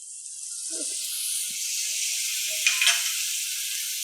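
Sausages with dark soy sauce sizzle in a pan for dragon potato, a steady bright hiss with a brief louder spurt partway through and a few faint clinks underneath.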